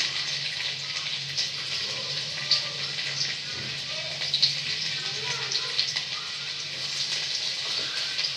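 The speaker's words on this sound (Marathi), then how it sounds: "तेल गरम झाले, यामध्ये लसूण बारीक केलेला आपण मगाशी" Finely chopped garlic sizzles steadily in hot oil in a pan while cabbage manchurian is cooked, a continuous close frying hiss with small crackles throughout.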